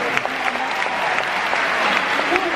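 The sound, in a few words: audience clapping for teachers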